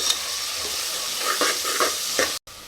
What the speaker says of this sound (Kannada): ಈಗಲೇ ಚೆನ್ನಾಗಿ ಫ್ರೈ ಆಗಲಿ ಅಂತ ಮುಂಚೆನೇ ಬಟಾಣಿ ಹಾಕ್ತೀನಿ